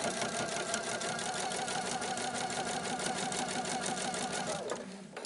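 A sewing machine runs a quarter-inch seam in one continuous, fast, rhythmic chatter of needle strokes, close and steady, then slows and stops near the end.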